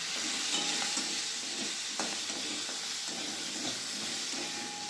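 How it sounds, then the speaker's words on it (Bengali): Sliced radish with turmeric powder and salt is turned in hot oil in a pan, giving a soft continuous sizzle and hiss with light scraping stir strokes, fairly quiet and close. "মূলটা ভালো করে নেড়ে নেব।"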